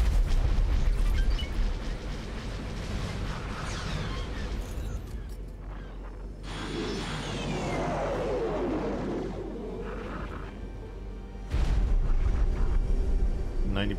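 Torpedo launches and explosions in the space game X4 Foundations, with heavy rumbling blasts and booming bursts rolling across the scene, loud at the start and again near the end, with whooshing sweeps between them.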